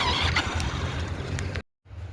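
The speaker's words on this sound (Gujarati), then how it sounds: "મેં બાઇકમાં ચાવી ભરી દીધી, જોઈ લો તમે. તો અહીંથી નીકળીએ આપણે ઓફિસ જવા માટે." A motorbike ridden off toward the office gives a steady, close engine-and-wind roar that cuts out briefly near the end, then resumes.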